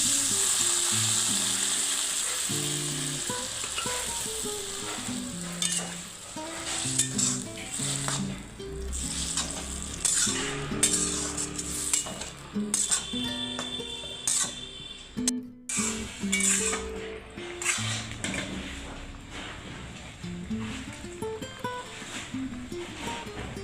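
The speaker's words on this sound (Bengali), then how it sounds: "এবার এই ডালটা আমরা কড়াইয়ে দিয়ে দেবো।" Boiled chana dal tipped into a hot kadai for an egg-and-gram curry, frying with a steady close sizzle and crackle, broken by clattering stirs and scrapes against the pan, with music playing underneath.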